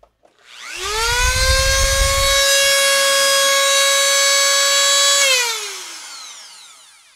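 Dremel 4300 rotary tool on 120 volts at max speed, spooling up to a loud, steady high-pitched whine close by, holding for several seconds and then winding down.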